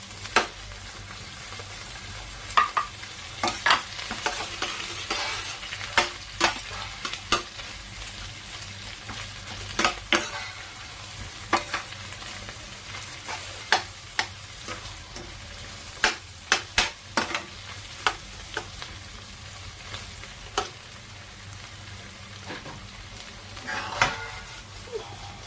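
White onion sautéing in a pan for a mung bean dish with shrimp and pechay: a steady sizzle with sharp stirring scrapes and clinks of a utensil against the pan, close and without talk.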